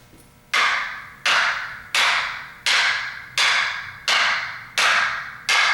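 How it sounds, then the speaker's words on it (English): Eight evenly spaced, sharp taps struck along a sword blade, each ringing briefly and fading before the next hit in a steady rhythm, close and fairly loud. "he's going to start tapping at this end of the sword, and he's going to inch his way up the sword"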